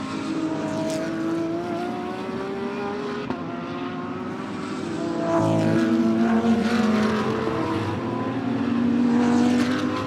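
Audi GT race cars in an ADAC GT Masters race at Oschersleben, a continuous engine roar with rising and falling pitch as cars accelerate and pass, swelling louder toward the end.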